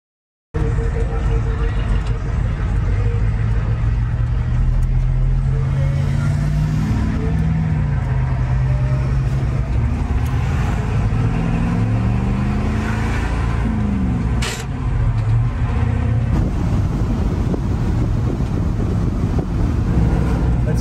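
A 1990 Ford F Super Duty truck with a ZF5 manual gearbox drives steadily, its engine droning loud and close with rising and falling pitch through an upshift.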